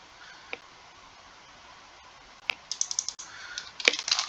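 Quiet computer mouse clicks and short bursts of keyboard typing at a desk, a few isolated clicks first and then a quicker patter of keystrokes near the end. Close but faint.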